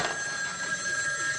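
A telephone rings in the firehouse of a comedy variety show, giving one clear, sustained electronic ring close by with no talk over it.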